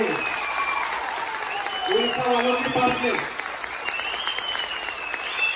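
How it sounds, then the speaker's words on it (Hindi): Audience applause at a multi-level marketing leader training event, a steady wash of many hands clapping continuously throughout while a voice talks over it. "सभी को एक बार ताली होनी चाहिए,"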